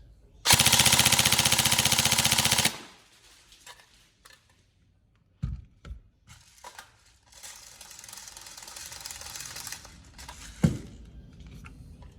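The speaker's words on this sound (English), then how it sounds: "lovely quick trigger response, good rate of fire, obviously recoil" A Tokyo Marui 416C next-generation recoil airsoft electric rifle on a 7.4-volt battery fires one loud, fast full-auto burst of about two seconds. Quieter mechanical handling clicks and rattles follow.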